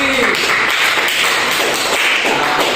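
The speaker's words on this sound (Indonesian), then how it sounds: "Tepuk tangan dulu untuk Budi" An elementary school class in a science lesson applauds a student, a dense, steady patter of many hands clapping close by for nearly three seconds, with faint voices mixed in.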